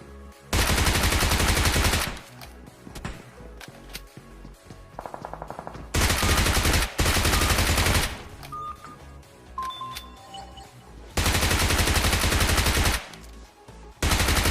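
Bizon submachine gun firing in PUBG Mobile, several loud rapid full-auto bursts of a few seconds each, separated by quieter gaps with faint game beeps and clicks.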